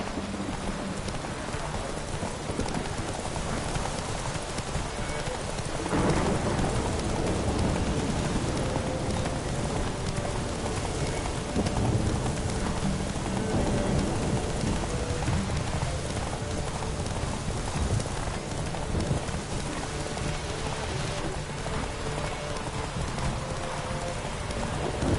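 Roach the horse gallops in a race in The Witcher 3, a dense, continuous drumming of hooves blended with a rushing rain-like wash. It stays loud and steady throughout, with no voices.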